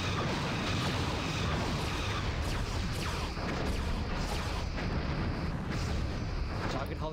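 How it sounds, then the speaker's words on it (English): Heavy, continuous rumbling barrage of starship torpedo fire and impacts from a Star Trek space battle game, an Akira class against an Intrepid class, dense and steady with faint overlapping bursts. "Side firing torpedoes."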